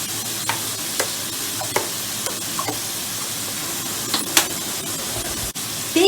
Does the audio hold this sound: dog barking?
no